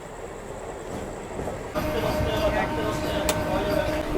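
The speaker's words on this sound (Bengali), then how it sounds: "চলো আগে শ্যামনগর থেকে ট্রেনটা ধরে নিই" A passenger train at Shyamnagar station, bound for Puri, rumbles steadily on the platform. A louder rush of wheels and carriage noise swells midway, with voices faintly under the din.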